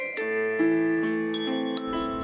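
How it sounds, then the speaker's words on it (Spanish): Bells played as music in Guatemala ring out in a short melodic run of several struck notes, each with a clear metallic onset and long sustained ringing tones that overlap as the sequence continues. "con el simple hecho de acomodar cada nota de las campanas"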